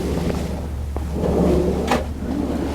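Cabin drawers on a Sirius 310 DS sailboat slide open and shut, two soft wooden clunks over a low steady hum, with no one talking.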